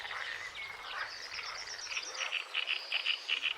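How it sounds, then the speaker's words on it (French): An African bullfrog croaks in a marsh after heavy rains. A steady run of rhythmic, moderately close croaks sounds alone over a faint bed of insect chirring, with no talking. "la grenouille taureau."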